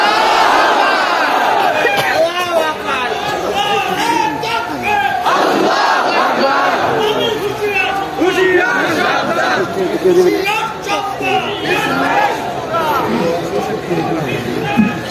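A large crowd at a political rally shouts a takbir slogan back in unison, loud and sustained, with many voices overlapping in a dense roar.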